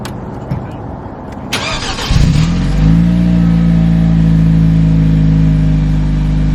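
A car engine cranks and catches about two seconds in, then settles into a loud, steady warm-up idle hum on a cold morning, with earlier rustling and handling noises before the start.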